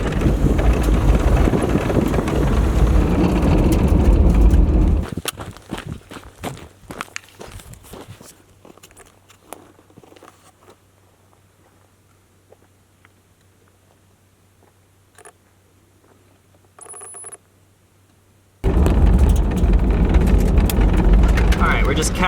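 A car drives across the desert, with a rumbling road and wind roar that drops to a quiet hum midway and then returns loud. Voices speak over it.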